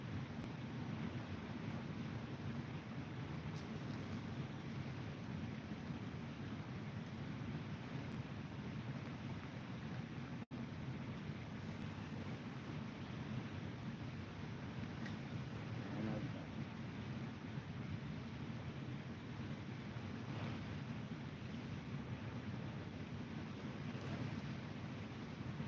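Steady wind blows outdoors on the lower Black River during a catfishing trip, a constant low rumbling buffet with a soft broadband hiss and no speech.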